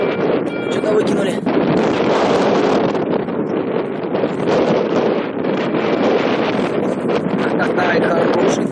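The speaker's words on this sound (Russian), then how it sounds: "как ветер раздувается." Strong wind roars and buffets the microphone continuously, a loud rough rumble throughout with faint speech buried underneath.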